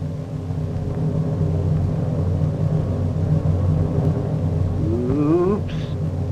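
A 1956 Chevrolet in a Joie Chitwood stunt show is driven on two wheels, giving a steady low engine rumble and drone through the clip, with a brief rising whine near the end.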